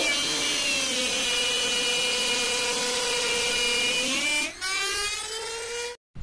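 A power drill bores steadily into a wooden plate for a cutter machine, a loud continuous whine that slowly drops in pitch as the bit bites deeper, briefly dips, then cuts off abruptly near the end.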